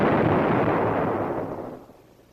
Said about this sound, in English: And the engineers almost got a steam bath from this explosion.